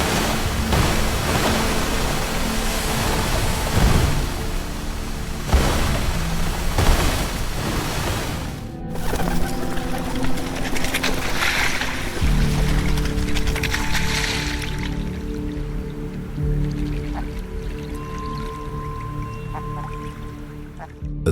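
A large prehistoric amphibian, Proterogyrinus, bursts up through the water's surface with loud, sustained splashing and surging water, followed by softer dripping. A narrator speaks over the sound.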